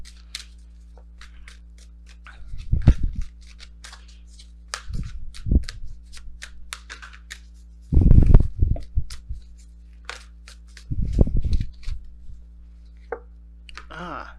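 Oracle cards shuffled and pulled during a tarot reading, a few short papery riffling bursts and slaps separated by quiet gaps, close and fairly clear, with a faint background hum.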